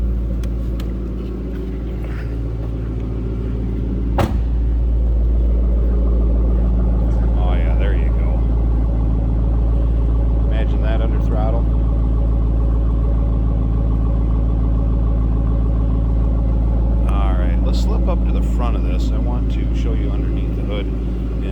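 A 2010 Ford Mustang Roush 427R supercharged coupe with a 4.6 liter 3-valve V8 idles with a steady, deep low rumble throughout, while someone talks over it now and then.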